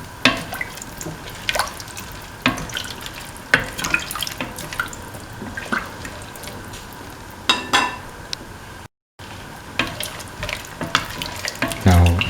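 A spoon stirs a green peas, cauliflower and coconut milk stew in a pan, giving a steady wet swishing and clinking with soft sizzling underneath. The sound is fairly close and continuous, and nobody speaks.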